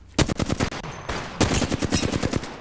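Rapid automatic gunfire in the battle royale game Apex Legends, two loud close bursts of fast repeated shots separated by a brief pause, no talk.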